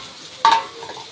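Fish dropped into a hot pan with powdered milk gives a sudden sharp sizzle that flares up loudly, then settles into a quieter crackle, close by and with no voices.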